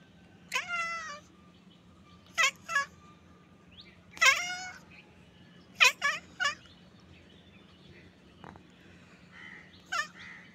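A cat gives a series of loud, close meows at a crow perched nearby, five or six separate calls spaced over several seconds, with a steady low hum underneath.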